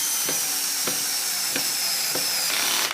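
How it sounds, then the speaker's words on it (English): A power driver's clutch ratchets and slips after a screw bottoms out while fastening a wooden hat rail tight to a stile: a steady motor whine with a sharp click roughly every half second, close and loud, with no talking. "You can hear the screw bottom up, but then you can hear the ratcheting."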